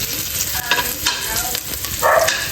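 Onions sauté in a pan ahead of the garlic for a rainy-day home dish, a steady close sizzle broken by a few scraping stirs of the spatula.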